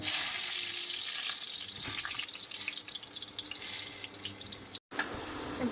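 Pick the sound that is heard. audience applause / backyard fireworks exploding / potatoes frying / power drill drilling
potatoes frying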